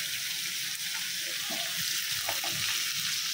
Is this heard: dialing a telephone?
no